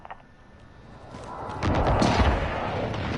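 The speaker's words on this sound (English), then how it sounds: "Enemy precision airstrike." Precision airstrike explosions in a shooter video game, a low rumbling build that swells into heavy, sustained booming blasts, loud and close, without speech.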